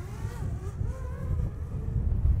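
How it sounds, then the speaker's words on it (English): A small Potensic ATOM drone flies outdoors in strong wind, its thin rotor whine wavering in pitch under heavy, rumbling wind buffeting on the microphone. "Drone is just fighting that wind, guys."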